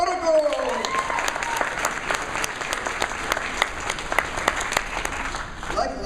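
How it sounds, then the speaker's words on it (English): Big-room audience applause at a convention opening ceremony, sustained and loud with crowd noise and a steady tone underneath, a voice briefly audible near the start and end. "let's give a big round of applause for Ogawa Boruku!"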